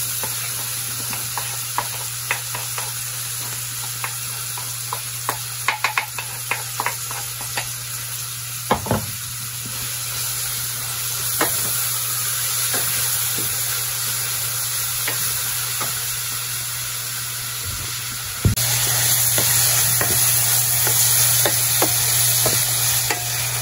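Seasonings frying and sizzling in a pan on a wood-fired stove, a steady close crackle with occasional stirring knocks and scrapes, no voices.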